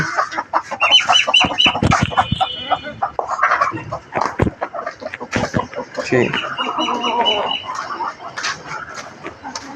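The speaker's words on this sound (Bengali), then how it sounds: "গলাশিলা মুরগি" Close naked neck chicken clucking and squawking in bursts, with other birds chirping nearby and some talk mixed in.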